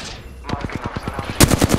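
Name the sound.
gunfire from enemies in video game Apex Legends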